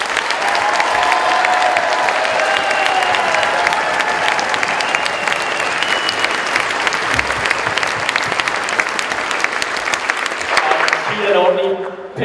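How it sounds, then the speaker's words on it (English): Big, continuous audience applause with some cheering at an evening tattoo show, steady clapping throughout that ends abruptly as a voice returns. "let's give her a big clap"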